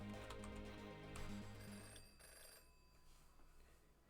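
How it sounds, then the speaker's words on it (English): Store landline telephone ringing in the Fatal Twelve game, a faint electronic bell tone repeating steadily before fading out after a few seconds. "the phone rings"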